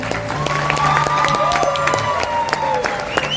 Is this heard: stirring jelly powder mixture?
no